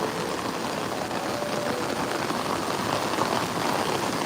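Heavy rain pours steadily onto a street in a storm, a dense, loud, unbroken hiss of water with runoff flowing along the road.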